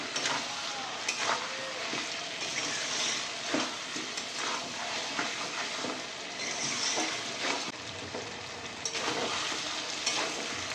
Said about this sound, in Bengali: পটলের সঙ্গে একটু কষিয়ে নেব।